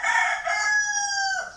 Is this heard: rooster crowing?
yes